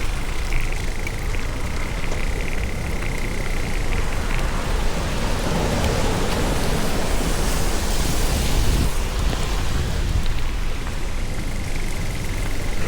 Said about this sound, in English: Heavy rain.